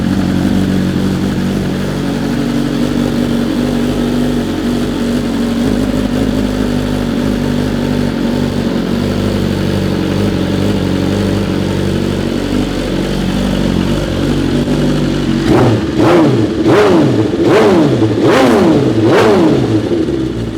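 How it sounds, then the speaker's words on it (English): A BMW M1000RR superbike with a well broken-in aftermarket exhaust idles loudly and steadily, then fires off a rapid series of about five sharp throttle blips near the end, close and alone. "You can compare the sound of an M1000RR with the same exhaust."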